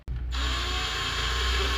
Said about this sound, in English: Step 2, drill into the anchor.